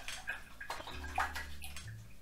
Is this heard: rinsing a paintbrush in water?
yes